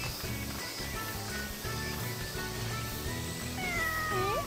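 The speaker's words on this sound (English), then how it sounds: "the game made me pet a cat" A cat meows repeatedly inside the video game Sakuna of Rice and Ruin, its rising and falling cries heard over a dense bed of game music and ambience, growing more prominent toward the end.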